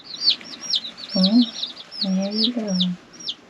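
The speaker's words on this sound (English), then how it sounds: "That one crying over there in the corner is a rooster." Chickens and a rooster cluck and chirp in short, repeated calls close by, with a voice speaking briefly between them.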